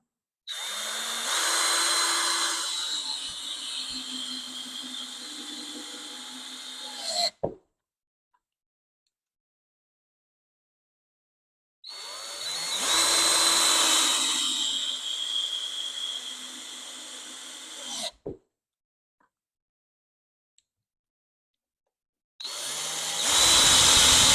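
A power tool drives screws into wood in three long, steady bursts of loud motor whine, each running several seconds and stopping sharply, separated by silence.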